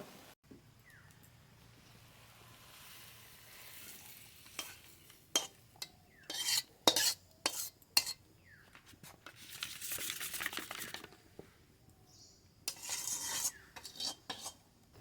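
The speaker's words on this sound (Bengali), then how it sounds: "আর একটু নেড়েই নামিয়ে নেব চিংড়ি মাছ দিয়ে প্রচুর লতির ভর্তা রান্না হয়ে গেছে" Taro stolon and prawn mash being stirred in a pan, with scraping and clinking utensil strokes that come in irregular bursts, louder toward the middle and end, and no talk.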